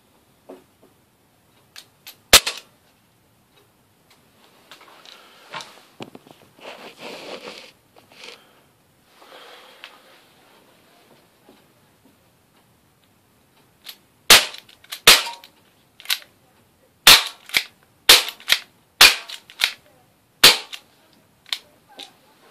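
An ASG Dan Wesson 4.5mm CO2 air pistol fires about ten sharp, close cracks, a lone shot early on, then a quick irregular string near the end, with quiet handling noises between.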